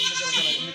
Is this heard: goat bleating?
yes